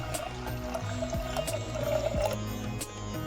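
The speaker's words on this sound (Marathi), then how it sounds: "हे आपण कुकरमध्ये टाकून घेणार आहोत, पाणी टाकून घेणार आहोत" Water pours steadily into a metal pressure cooker in a continuous splashing stream, close and moderately loud, with no talking.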